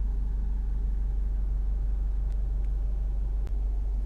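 A Honda CR-V 1.6 i-DTEC diesel automatic with 4WD idles steadily, a low, even rumble heard from nearby with a couple of faint clicks over the hum.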